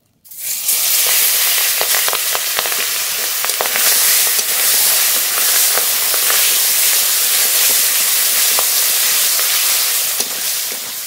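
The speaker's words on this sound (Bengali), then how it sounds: "মাছ খুব ভালো করে ভেজে নেব।" Fish sizzles loudly in hot mustard oil in a wok-style kadai, a steady dense frying hiss with scattered crackles and pops running throughout, close and without any talk.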